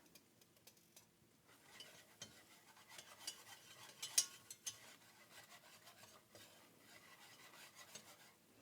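A flour roux being whisked in a pot for broccoli cheddar soup, heard as soft, faint, uneven scraping and rubbing strokes with a gentle sizzle beneath, close but quiet.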